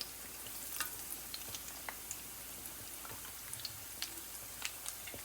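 Spicy potato balls fry in hot oil, a steady soft sizzle with scattered crackles and pops throughout, heard close and alone without any talking.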